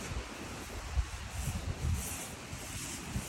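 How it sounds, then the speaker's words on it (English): Steady wind buffeting the microphone outdoors in a coastal garden, low rumbling gusts rising and falling continuously without any voices. "Can't hear anything, it's too windy today."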